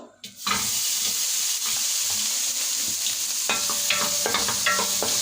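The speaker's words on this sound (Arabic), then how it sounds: "هشوحها شويه قبل ما احط الزيت عشان تسيح كده وتنزل ايه الماده الدهنيه اللي جواها" Meat for stuffed cabbage sizzles and is stirred in a hot dry pot on a gas stove before any oil goes in, a steady close frying hiss with scraping spoon strokes and clinks, loud and continuous, no talk.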